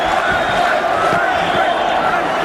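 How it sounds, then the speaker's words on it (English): A big arena crowd at the Mike Tyson vs James Tillis boxing match roars steadily and loudly, a continuous dense wash of voices with no breaks. "Now the crowd begins to implore Tyson"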